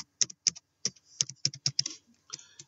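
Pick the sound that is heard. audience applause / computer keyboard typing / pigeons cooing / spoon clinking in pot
computer keyboard typing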